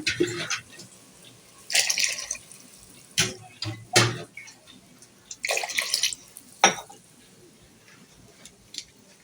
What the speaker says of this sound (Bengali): পরিমাণ মতো দিয়ে দিচ্ছি পানি।